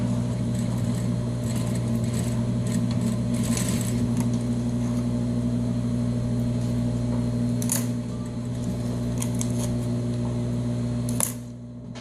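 An industrial sewing machine stitches a welt seam with a quarter-inch seam allowance, giving a steady, close motor hum with light mechanical clicks throughout and a brief stop near the end.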